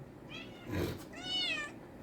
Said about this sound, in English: And my cat wants to be noticed.